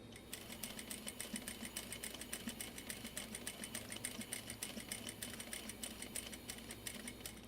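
A sewing machine top-stitches a strap on a zipper pouch, giving a steady, rapid mechanical stitching rhythm that runs continuously, quiet and close, with no talking.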